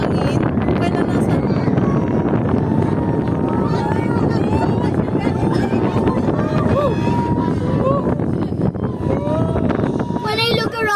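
Strong wind roars steadily into the microphone at the top of an amusement park ride at Enchanted Kingdom in Sta. Rosa, Laguna, buffeting throughout while people talk over it.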